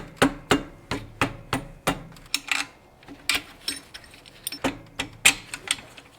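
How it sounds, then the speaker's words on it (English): Metal tool tapping an alternator into place during a 2006-2010 Subaru Legacy Outback engine swap, a series of sharp, evenly spaced knocks up close, followed by some clinking and handling noises. "Put in our alternator. Tap on it a little."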